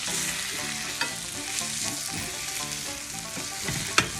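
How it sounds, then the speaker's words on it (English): Sweet potato corned beef hash sizzles steadily in a pan while a spatula mashes and scrapes it against the bottom, with a sharp clack near the end; no voices. "we're gonna take our spatula here and we're gonna kind of mash this stuff down"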